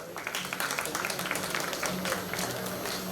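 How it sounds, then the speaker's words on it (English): A scattered round of clapping from an awards ceremony audience runs throughout, fairly quiet and uneven, with a voice and crowd murmur mixing in underneath. "A round of applause, guys."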